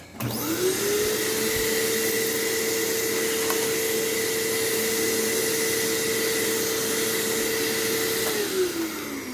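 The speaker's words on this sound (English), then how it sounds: "the acquisition and living room vacuuming, just go nice and flat, of the Eureka Mite" A Eureka Mighty Mite vacuum cleaner running across a living room floor, a loud, steady whine that spins up at the start and winds down near the end, close and alone without talk.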